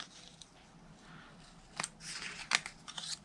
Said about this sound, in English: we only cut a little tiny bit of the vine off on the edges.